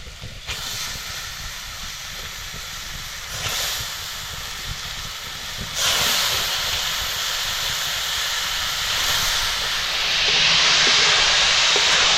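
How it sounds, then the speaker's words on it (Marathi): Field beans and potatoes hit hot masala in a pan, setting off a loud, close, hissing sizzle that surges when they are added and swells again near the end. "आता आपल्याला ह्यामध्ये बिरड आणि बटाटे टाकायचंय."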